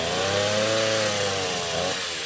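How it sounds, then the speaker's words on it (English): A hedge trimmer runs continuously up close, a loud steady motorized buzz with a harmonic whine that wavers slightly in pitch, with no talking. "And then the hedge trimmer."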